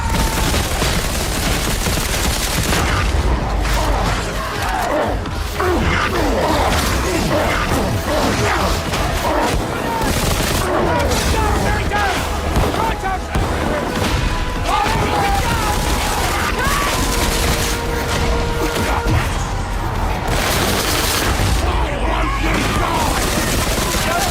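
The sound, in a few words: gunfire in the video game Darktide shooting contest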